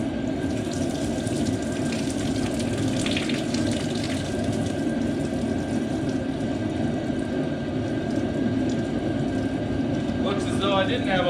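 Leftover coolant gushes out of a Dodge 318 5.2L Magnum engine in a steady, continuous splashing pour that runs the whole time, with faint clinks near the end.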